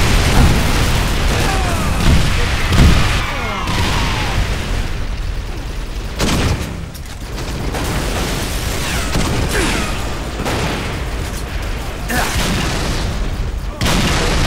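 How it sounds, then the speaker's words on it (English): Grenade launcher explosions from a Halo custom gun game match: repeated booming blasts and bursts in a loud, dense stream of gunfire and game effects. "Grenade launcher is probably one of the hardest ones, to be honest."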